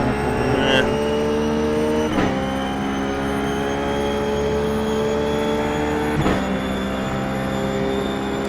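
Ruf GT3 race car engine at Monza in the iRacing sim, a steady loud drone with harmonic whine as the throttle is held on, punctuated by a couple of sharp shift or kerb transients.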